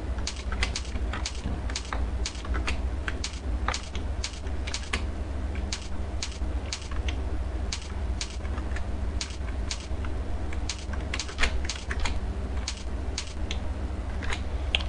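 Close, steady typing on a computer keyboard while code is written, with quick irregular key clicks and occasional heavier strokes over a low background hum.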